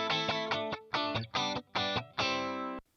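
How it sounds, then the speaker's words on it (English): An 80s-style Stratocaster electric guitar with distortion chugs out a rhythmic pattern of about six sharp, muted chord bursts, close and steady, with no voices. "Like a chugga-chugga sound."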